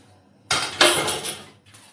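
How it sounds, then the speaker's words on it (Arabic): Onions and spinach stirred together in a pan, a burst of scraping and clinking from about halfway through that fades out, with a brief soft rustle near the end. "هلا بنحركهم مع بعض"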